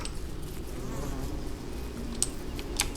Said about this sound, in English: we're kind of heading through the middle of a lot of bees now